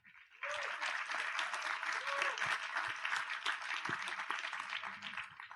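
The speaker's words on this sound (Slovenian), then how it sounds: "prosim en aplavz še zanje" A live podcast audience in a venue breaks into loud applause, a dense, steady burst of clapping that starts abruptly and carries on for several seconds with a few cheers mixed in.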